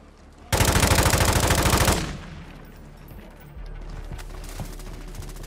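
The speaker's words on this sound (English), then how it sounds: "And they're getting shot on the other side too." A sustained burst of rapid automatic gunfire rattles loudly for over a second in a battle royale video game, then gives way to a quieter, steady background of game ambience.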